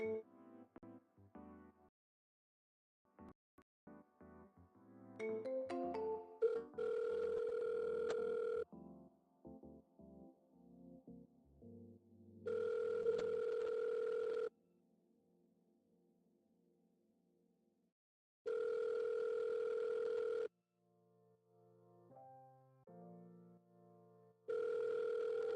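A telephone call rings through repeated long tones with gaps between them, mixed with short dialing beeps and shifting tone sequences, clean and electronic, before the line is forwarded to voicemail.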